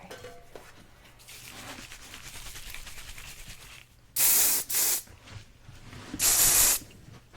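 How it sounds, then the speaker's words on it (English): Quiet rustling and hair-handling noises give way to three sharp, close bursts of hair spray, two quick in succession and one longer after a pause. "let me spray that one more time."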